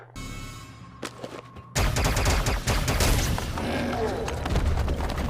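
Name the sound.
gunfire in The Mandalorian episode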